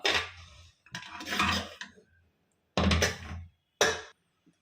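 Roasted semolina is scraped out of a pan onto another plate in a few short bursts of gritty scraping and clatter separated by pauses, nearby and with no talking.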